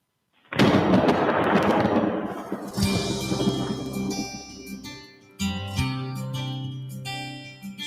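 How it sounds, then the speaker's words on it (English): A sudden West Texas thunderstorm delivers a loud, close crash of thunder that rumbles for about two seconds, then gives way to other tonal sounds. "Storm blew up from out of nowhere. Now it's raining with a vengeance."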